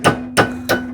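An SDS drill with a bent bit hammers into a hole in three loud, close bursts, each a sharp impact with a steady motor whine running underneath.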